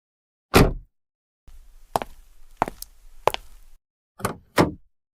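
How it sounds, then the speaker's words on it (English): A door shuts with a sharp wooden thud, followed by several more knocking and chopping impacts spaced about half a second to a second apart, each clean and close against silence. "The door closed."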